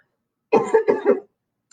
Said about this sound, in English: That was scary to cough right now.